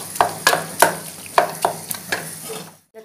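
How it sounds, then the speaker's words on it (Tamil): Cooked ridge gourd mashed in a pot with a wooden masher: about eight close, moist thumping and squishing strikes in an uneven rhythm, fading out at the end, with no talk. "இந்த மத்தில் வந்து இப்படி மசிச்சுக்கிட்டே இருக்கணும்."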